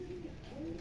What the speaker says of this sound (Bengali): এই যে আরেকটা কবুতর বের হয়ে গেছে ওড়ার জন্য।